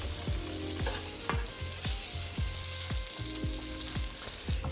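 Torn tofu chunks sizzle in a hot pan on medium-high heat for a stir-fry, with steady frying hiss and a regular series of sharp clicks and taps from stirring, close and moderately loud with no talk.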